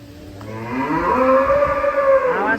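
A black cow named Pelang lets out one long, loud, drawn-out moo close by. The call rises and holds steady, with no speech over it.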